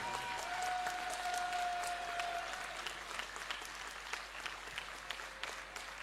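Steady applause from a Hindi-speaking church congregation fills the whole stretch, dense clapping at a fairly even level, heard from a little distance.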